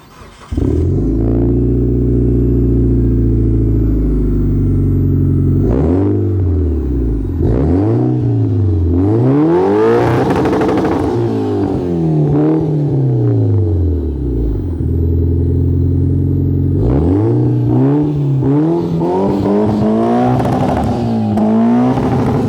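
An AWD turbo Dodge Stratus coupe revs hard through a straight-pipe exhaust. Loud, close blips rise and fall repeatedly over a rough idle, with some sustained high-rpm pulls and no talking.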